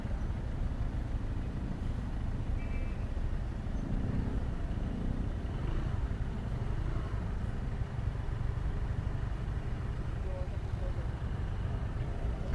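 Road traffic around a Honda Wave RSX motorcycle in slow, congested traffic near a hot van, a steady low rumble of idling and crawling engines at moderate distance under continuous talk.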